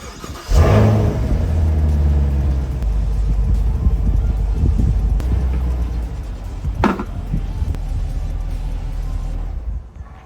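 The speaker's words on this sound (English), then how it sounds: "So let's go ahead and pull it up onto the ramps now." A Camaro starts up and rumbles steadily as it is driven slowly up onto Rhino ramps, the engine droning close by with a sharp knock near the end before it cuts off.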